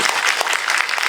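An audience at a film screening Q&A applauds to welcome the director and an actress, a dense, even clapping from a crowd that carries on throughout.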